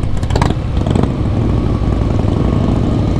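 Several sport motorcycles, including what looks like a Kawasaki, roar past on a rural road through village and forest, a loud close engine rush with brief rising bursts at the start, then a steady droning rumble.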